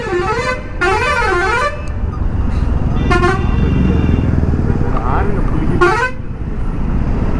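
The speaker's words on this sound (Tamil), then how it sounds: "இவன் ஹார்ன் அடிச்ச மட்டும் எப்படி போகிறது?" Vehicle horns honk in heavy road traffic: loud, warbling, wavering horn blasts come in several separate bursts over a constant engine and road roar, with a voice speaking between them.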